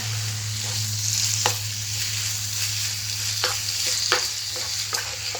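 Chicken pieces being stirred in a hot pan for chicken thoran, a steady close sizzle with a low hum beneath and several sharp scrapes of the spoon against the pan, no voices.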